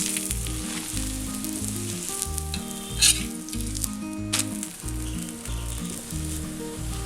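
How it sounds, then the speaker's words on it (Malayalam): A potato-stuffed chapati fries in oil on a pan, giving a steady loud sizzle with a rhythmic low thumping underneath and a brief sharper crackle burst midway; no voices. "ഇതിലേക്ക് കുറച്ച് എണ്ണ ഒഴിച്ചു കൊടുക്കാം. ഇതിങ്ങനെ തിരിച്ചും മറിച്ചും ഒക്കെ ഇട്ടിട്ടൊന്ന് ചുട്ടെടുക്കാം"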